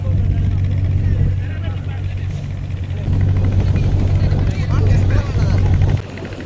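Trawler boat engines droning steadily near Kachchatheevu island, a loud low continuous rumble with wind and water noise, under someone talking.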